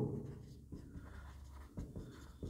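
Chalk or marker writing on a classroom board during a trigonometry lesson, with short scratchy strokes in quick bursts, close and quiet.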